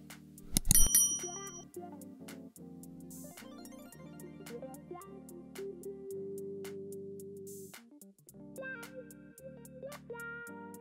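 A notification bell sound effect rings out loud near the start, followed by a bright, layered electronic jingle with bell-like tones and sustained chords, with no speech.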